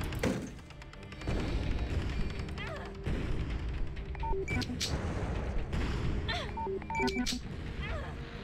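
Booming video game explosions and scattered gunfire thud repeatedly amid dense, chaotic battle noise, with electronic beeps and chirps layered over the din.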